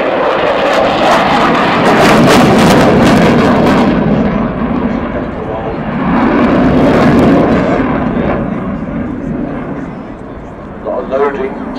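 A display jet rolls and turns at the Farnborough Airshow 2010, its loud, continuous engine roar swelling and fading as it passes close, with a brief faint voice near the end.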